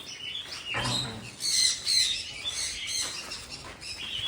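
Small birds chirp and tweet in short, bright bursts at a mini zoo near Nandi Hills, Bangalore, with several calls overlapping at moderate distance and no talk.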